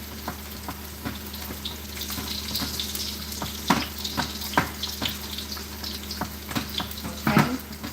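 A spinach and cream cheese mixture cooks down in a pan, giving a steady, close sizzle with soft stirring scrapes and a few sharper clinks throughout.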